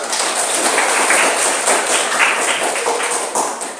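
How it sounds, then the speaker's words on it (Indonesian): A classroom of students claps together in a brisk, dense burst close by, steady for a few seconds with no talking over it. "Ya, tepuk tangan untuk semuanya."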